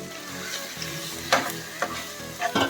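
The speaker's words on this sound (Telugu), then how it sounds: "చికెన్ మ్యారినేట్ చేసుకున్నది దీంట్లో వేసేసి కలిపేసుకుందాం" Marinated chicken with onion, salt, chili powder and green chili paste sizzling and frying in a pan for gongura chicken while being stirred, with a constant close sizzle broken by several sharp scraping stir strokes.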